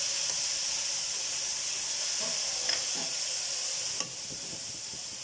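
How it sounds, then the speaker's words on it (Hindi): Capsicum, cabbage, peas and meat fry in a pan with a steady, close hiss and sizzle, broken by a few faint stirring scrapes and a single sharp clink near the end. "तो अब इन्हें शिमला मिर्च और दोनों चीज़ों को अच्छे तरीके से भून देंगे"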